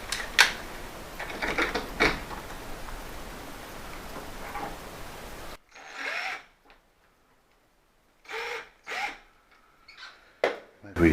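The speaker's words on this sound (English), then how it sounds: "I'll get this one screw in, will be right" A screw is driven into a mortice lock handle by hand, giving scraping, rubbing turns that first sit under steady background noise and then come as separate short bursts with silent gaps between them.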